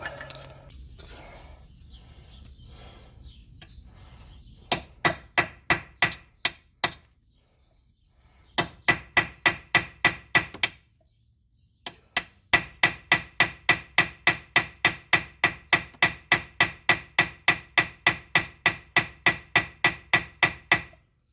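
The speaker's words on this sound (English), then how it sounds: "See if we can hammer it off." Sharp metallic hammer blows on a chisel ring out in fast, steady series while knocking out a lower ball joint on a Pontiac Montana, pausing briefly between bursts of repeated strikes, loud and close.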